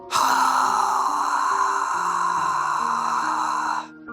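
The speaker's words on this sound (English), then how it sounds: "he let out a massive world-shaking yawn" A cartoon panda lets out a long, drawn-out yawn lasting about four seconds, loud and close, with a sustained breathy tone that fades out at the end.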